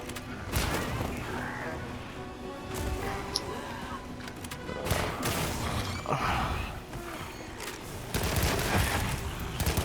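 Video game weapon set to rapid or intense fire, a dense fusillade of quick gunshots and bursts with heavy booming impacts that keep going throughout, loud and close.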